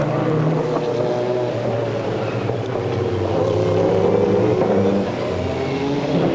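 Mercedes and Jaguar sports prototype racing cars from 1990 drive past with a loud, steady engine drone and some revving, continuous throughout.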